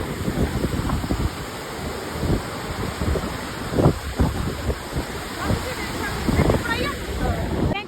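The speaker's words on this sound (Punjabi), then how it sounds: "ਪਿਛਲੇ ਸਾਲ ਨਾਲੋਂ ਇਹ ਵਾਰ ਜਿਹੜਾ ਪਾਣੀ ਦਾ ਬਹਾਵ ਹੈ ਕਾਫੀ ਜ਼ਿਆਦਾ ਤੇਜ਼ ਹੈ" The flooded Sisvan river near Kurali rushes fast, making a constant loud roar of churning water with gusts of wind buffeting the microphone.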